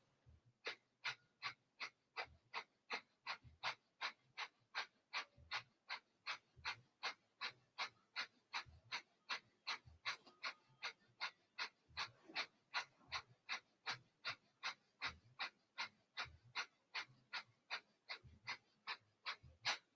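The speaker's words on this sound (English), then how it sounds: "We'll take a quarter breath in and begin a fire breath." Rapid rhythmic fire breath during a yoga session, sharp forceful exhales pulsing at an even pace, close and alone.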